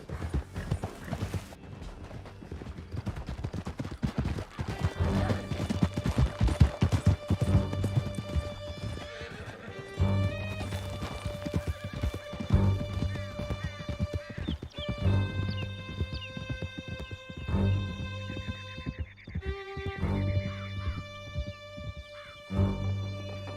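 Horses gallop with steady hoofbeats and occasional whinnies during a canyon escape in Red Dead Redemption 2, the clip-clop continuous and prominent over swelling music.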